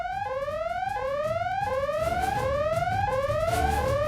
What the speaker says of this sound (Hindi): अरे ये अलार्म किस बात का?